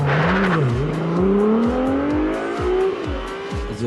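A Ferrari 296 GTB with its 818 hp V6 hybrid engine accelerates hard, the loud, close engine note rising steadily through the revs with rapid repeated gear-shift dips and a faint tire squeal.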